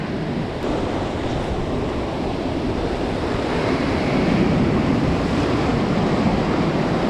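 Ocean surf breaking on a South Shore beach on the East Coast during a fishing outing, a steady continuous roar of waves with wind noise buffeting the microphone, loud and unbroken throughout with no talking.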